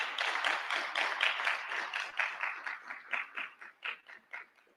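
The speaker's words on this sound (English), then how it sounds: "Let's give them a round of applause." An audience at a conference closing session in Kenya gives a round of applause, steady clapping in a regular pulsing rhythm that gradually thins out and fades.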